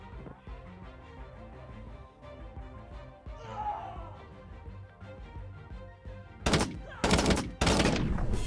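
Shots fired in the Totally Accurate Battle Simulator game: quiet game ambience and a brief scuffle, then several loud, sharp gunshot blasts close together near the end.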